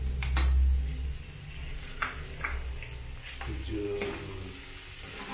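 Onions frying in oil in a pan for ginataang tilapia, a soft steady sizzle under a voice speaking, with a few brief clinks of utensils.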